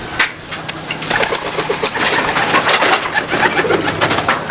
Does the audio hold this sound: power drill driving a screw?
no